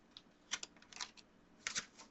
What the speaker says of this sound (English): This is a very large deck. It is very difficult to shuffle sometimes.